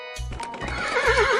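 A horse gives one loud, close whinny that rises and wavers in a long, shaky trill, with rhythmic music thumping underneath.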